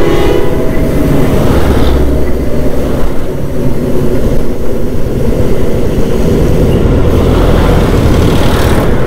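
A loud, continuous rumble of a passing vehicle with a sustained horn blaring over the din, steady and close throughout, on a street in Sauraha, Chitwan, Nepal.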